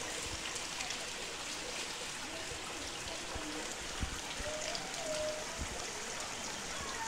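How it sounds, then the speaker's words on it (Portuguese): Heavy rain pours in the Pernambuco backcountry, a steady, dense hiss that fills the whole stretch without pause, with faint trickling water and an occasional soft patter close by. "Eita, que chuva maravilhosa."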